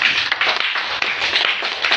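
A church congregation claps for Jesus during a Swahili sermon, with dense, steady applause from many hands filling the space close and loud throughout, with no talk over it.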